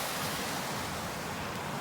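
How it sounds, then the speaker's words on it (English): Waterfall along the Coledale Horseshoe in the Lake District on a windy day: a steady, dense rushing hiss of falling water, heard close and unbroken, with wind buffeting mixed in. "We're at this waterfall here"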